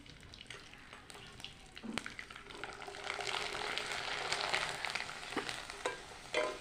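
Rice papad frying in hot oil with a steady crackling sizzle throughout, a spatula occasionally scraping and tapping the pan, close and fairly loud with no voices.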